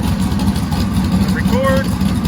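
A big cam twin turbo LS engine idles with a steady, loud low rumble while its idle is being tuned. A voice talks over the engine.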